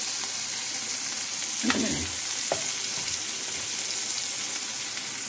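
Bottle gourd and prawns fry in a pan with turmeric, giving a steady, close sizzle throughout, with a couple of brief stirring scrapes and clatters.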